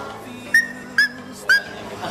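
A 12-year-old boy imitates a dog with his voice: three short, high whimpering yips, evenly spaced about half a second apart, each rising then falling, with quiet background between them.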